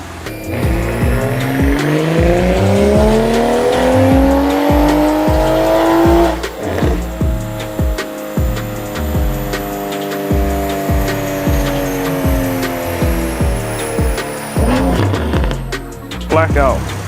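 MK5 Supra engine on a dyno pull: loud rising engine wail climbing steadily in pitch, then a sharp drop and a choppy, fluttering idle with bursts, under people talking.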